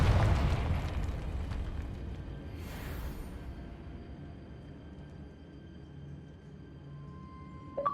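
Confringo blasting spell in Hogwarts Legacy, a single fiery explosion at the start that decays into a long fading rumble, followed by a brief whooshing burst and a soft magical chime near the end.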